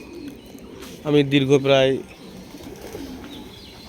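Pigeons coo in a single clear, close burst of throaty, rolling calls lasting about a second, with someone talking quietly before and after it.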